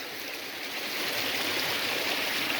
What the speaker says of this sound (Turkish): Dağdan gelen doğal kaynak suyu